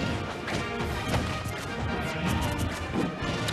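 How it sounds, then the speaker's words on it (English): A forward smash attack lands amid dense Super Smash Bros. 4 tournament gameplay sounds, a loud crashing impact buried in constant busy game audio and crowd noise. "Larry actually forward smashing"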